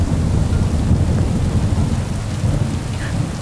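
Steady heavy rain hisses throughout with a deep rumble of thunder rolling underneath, loud and continuous with no voices, in the video game Kingdom Come: Deliverance 2.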